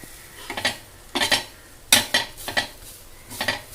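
Pitla, a chickpea-flour dish, is roasted and stirred in a pan with a metal spatula, giving several distinct scraping strokes in bursts with short pauses, close up, over a faint background sizzle.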